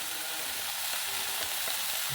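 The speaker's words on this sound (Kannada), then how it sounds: "ಚೂರು ಫ್ರೈ ಮಾಡ್ಕೊಂಬ." Potato pieces and fenugreek leaves frying for aloo methi, producing a loud, continuous crackling sizzle with some stirring, close up and with no talk.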